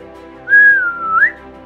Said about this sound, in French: Si tu me siffles encore...